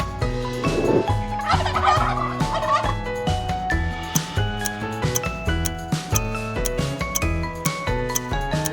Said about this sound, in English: Turkey! Exactly right.